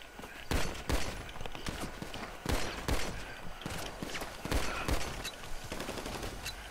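Repeated pistol gunshots in GTA 5, a run of sharp loud cracks at irregular intervals over a dense, busy game background.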